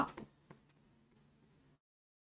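Marker or chalk writing on a board during a Hindi grammar lesson on sandhi makes a few short scratchy strokes at the start. The strokes are faint and close, followed by quiet taps, and then the sound cuts to silence.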